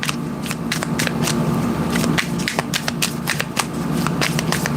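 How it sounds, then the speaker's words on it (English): Tarot cards are shuffled by hand in a close, continuous run of quick papery riffles and soft slaps with an irregular rhythm, with no talking. "Shuffling for Sagittarius."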